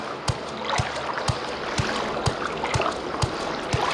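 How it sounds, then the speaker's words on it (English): Constant rushing river water in the fantasy role-playing game Morrowind, a steady broadband wash with evenly spaced dull thumps like paddle strokes repeating about twice a second. "Such a noisy river there."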